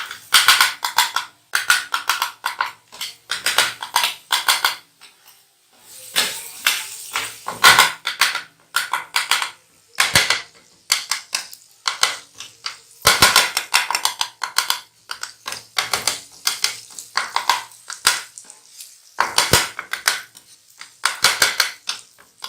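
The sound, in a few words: meat pieces being fried and stirred in a pan for chicken katakat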